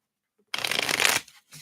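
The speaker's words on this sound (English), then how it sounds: "Let me give these a shuffle." A deck of tarot cards shuffled once up close, a crisp riffling burst of under a second followed by a couple of soft card taps.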